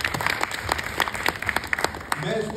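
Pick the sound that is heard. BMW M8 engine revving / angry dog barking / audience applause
audience applause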